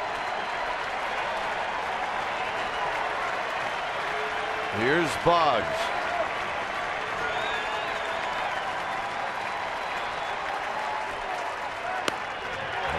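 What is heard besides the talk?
sellout ballpark crowd cheering at baseball game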